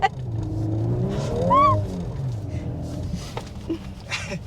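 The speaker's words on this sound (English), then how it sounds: "Let me see if I can do a little donut here without hitting those rocks." A 2022 Volkswagen Golf R revs while spinning a donut on a rough, rocky patch, its engine note rising and swooping in pitch at close range, with faint tire and gravel noise.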